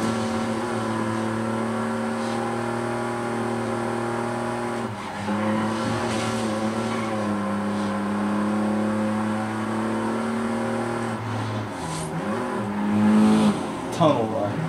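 Car engines roar through a street race in Forza Horizon 5, with steady high revving that shifts pitch as gears change and brief tire squeals near the end, under a talking voice.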